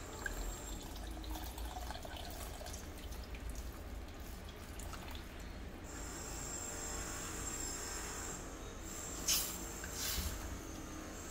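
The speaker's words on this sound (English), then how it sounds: "I'm going to add in about another 2 cups of water" Water runs steadily into a pot of tofu curry in a continuous pouring stream, with a brighter, splashier patch near the end.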